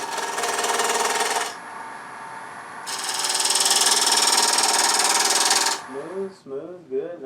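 A wood lathe spins a bottle stopper blank, giving two loud stretches of steady buzzing whir as the tool is eased in, then a quieter gap and a brief voice near the end.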